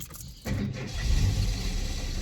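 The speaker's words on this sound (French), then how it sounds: "Elle fait un bruit chelou, la voiture, quand elle s'allume." A car engine cranks and catches, then settles into a steady, rumbling idle with a slightly odd, uneven tone, close and continuous.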